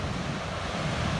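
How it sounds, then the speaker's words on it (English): Ocean waves crash against rocks at Constantine Bay on the Cornish coast, a dense, steady roar of surf with wind buffeting the microphone throughout. "seeing these waves coming in like this and crashing against rocks"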